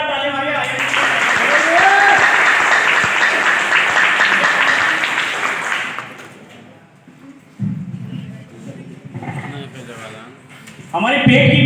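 Applause from a gathered audience, a dense burst of clapping that swells and holds for several seconds before fading out, with a voice speaking over it and more talk following.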